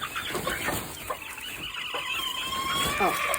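Chickens in a coop, including a Cochin hen, cluck and chatter continuously, close and lively, with higher peeps mixed in and a voice speaking faintly underneath.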